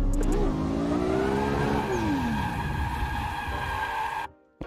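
A drifting car in a racing game revs hard, then its engine note drops sharply as the tyres scrub and the car spins out, with a loud continuous roar that cuts off abruptly at the end.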